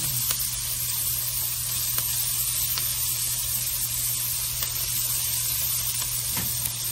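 Onion frying in a hot pan for Appalachian-style chili, a steady, loud sizzle that holds for the whole stretch, with a few faint clicks of stirring and no voices.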